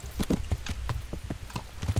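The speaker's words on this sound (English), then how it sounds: "Can Pegasus the horse fly?" Horse galloping in the video game Kingdom Come: Deliverance: rapid, evenly spaced hoofbeats thudding close and clear in a steady running rhythm, with no talk over them.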